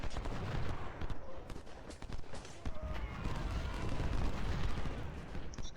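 Massed musket volleys crackle and rumble through a Civil War battle at Big Bethel in Ultimate General: Civil War, dense and continuous gunfire with dull booms, while someone talks over it.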